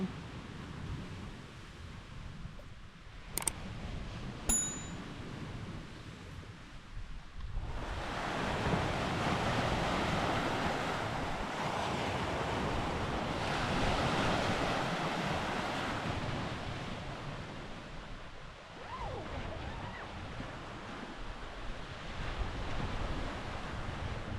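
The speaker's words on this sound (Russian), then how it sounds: "Сегодня, пожалуй, самая большая волна за все время" Broad rushing wash of large waves rolling in steadily on Lake Baikal, mixed with wind buffeting the microphone; a couple of brief sharp clicks early on, no voices.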